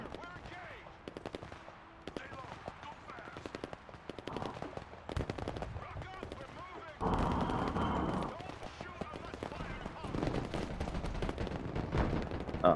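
Bursts of machine-gun and rifle fire in the military strategy video game Broken Arrow, with repeated rapid volleys and a denser, louder barrage midway, mixed under someone talking.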